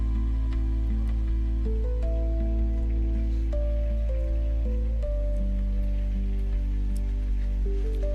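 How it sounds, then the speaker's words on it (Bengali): Rain falls steadily on a wet evening, a soft continuous patter blended beneath a sustained tonal drone with slowly shifting pitched notes, moderately loud throughout. "বৃষ্টি হচ্ছে এবং বৃষ্টির বাতাস, বৃষ্টির সাউন্ড"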